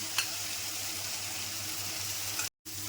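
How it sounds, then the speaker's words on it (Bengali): A spice paste of ground poppy and melon seeds with turmeric, cumin, coriander and chili powders fries in a pan with a steady, close sizzle, briefly cut off by a short gap near the end. "হলুদ, জিরে গুঁড়ো, ধনে গুঁড়ো আর লঙ্কা গুঁড়ো, পোস্ত আর মগজদানা বাটাটা দিয়ে দিচ্ছি।"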